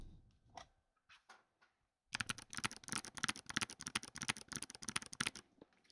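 Keystrokes on a keyboard with clicky switches start after a quiet moment, then rattle off as fast, sharp, crisp clicks in a dense close-up run with no voices.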